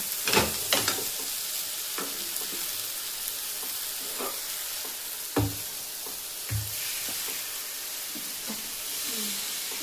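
Food frying and sizzling in a pan for sambar, a soft continuous hiss with scattered crackles and pops plus a few stirring clinks, close but fairly quiet, with no talking.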